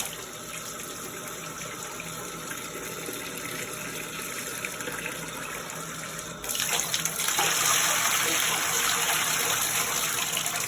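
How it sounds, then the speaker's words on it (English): Fresh water runs steadily over indigo-dyed fabric during a rinse, a continuous hiss of flow that grows louder and fuller partway through, with no talking. "once that fresh water is hitting it, you can see all the indigo that's coming out"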